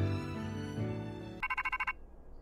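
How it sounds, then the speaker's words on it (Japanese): An electronic phone ringtone from the Pokémon Scarlet/Violet video game plays over a sustained background music chord, a quick run of about seven pulsing tones, faint and then cut to silence. "電話だ。"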